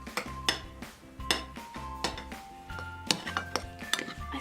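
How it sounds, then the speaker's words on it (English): A spoon clinks and scrapes around a bowl while pink fluffy slime ingredients get mixed, with sharp irregular taps and clatters sounding close. Faint background music plays underneath. "we are going to want to stir all this together"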